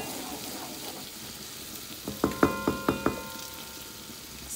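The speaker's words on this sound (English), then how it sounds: "I'm gonna add just some of my tomato as well. And we're gonna allow this to cook for a few." Tomato cooking in a pan for Haitian salt fish sauce (sos mori) gives a steady sizzling hiss, joined midway by five rhythmic tapping stirs close by before the frying settles back to a constant sizzle.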